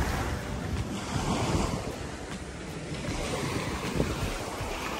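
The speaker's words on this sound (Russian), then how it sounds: "Здесь волны достаточно сильные." Strong ocean surf breaks at a small hotel beach at Casa Caribe in Cancun, Mexico. Waves churn and rush continuously and loudly, with wind buffeting the microphone and no voices.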